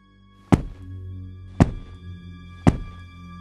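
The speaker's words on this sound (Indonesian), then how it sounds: "Kayak ada suara hentakan kaki di tanah 3 kali itu." Three heavy stomps of feet on the ground, evenly spaced about a second apart, each a loud dull thud that dies away quickly against a quiet background hum.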